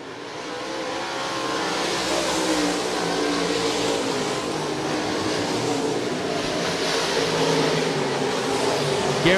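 Open wheel modified race cars roar around Volusia Speedway Park in a feature race, a dense, loud, continuous wall of engine noise from a pack of cars that never lets up.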